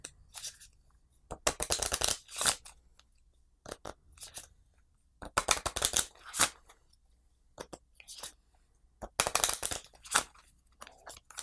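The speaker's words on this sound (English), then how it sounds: "so we'll shuffle back up." A deck of cards for a tabletop board game being shuffled, several quick riffling bursts separated by short pauses, close and crisp with brief quiet gaps between.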